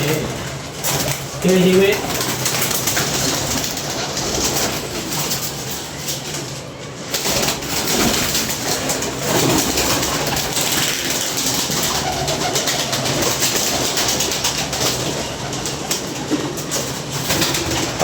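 Wild pigeons kept in a loft coo softly in the background, with a brief flutter of wings, while someone talks over them for most of the time.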